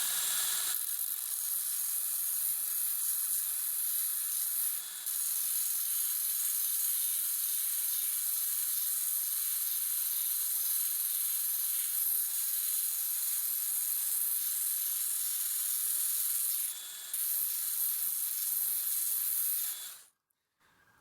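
A Milwaukee M12 FUEL 1/2 inch by 18 inch bandfile runs at speed setting 1, giving a steady, close high-pitched whirring hiss that holds for about twenty seconds with two brief dips before cutting off.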